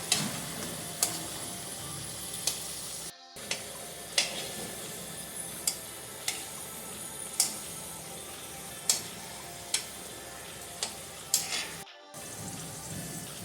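Potato pakoras frying in hot oil, a steady low sizzle broken by sharp crackling pops and ticks at irregular intervals, close and fairly quiet with no talking.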